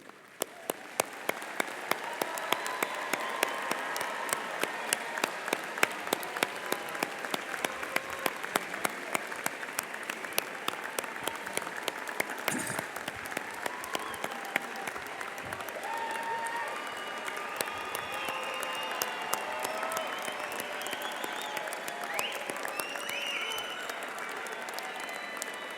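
Family and friends at a Berkeley engineering commencement applaud the graduating class of 2018 in long, sustained clapping across a large hall, heard from a distance and fairly soft.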